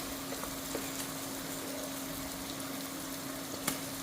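Onions sauté with a pinch of salt in a pan on an electric stove, giving a steady, even sizzle throughout with a faint tap or two and no voices.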